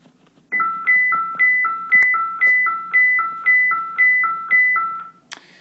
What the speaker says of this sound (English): Apparently I shouldn't do this when bells are ringing, huh?